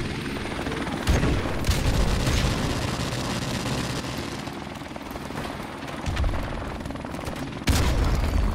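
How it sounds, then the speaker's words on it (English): A friendly helicopter arrives in a first-person shooter game, its steady rotor drone rumbling continuously while sharp bursts of gunfire and explosions break through around one, six and eight seconds. "Friendly helicopter on the way."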